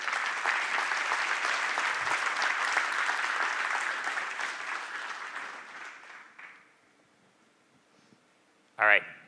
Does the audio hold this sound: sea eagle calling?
no